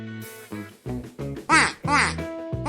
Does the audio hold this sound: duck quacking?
yes